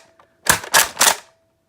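A Nerf RaptorStrike blaster fitted with a PeleusTech 12kg spring fires three sharp, loud cracks in quick succession, each a snappy mechanical bang with a short rattle, followed by silence.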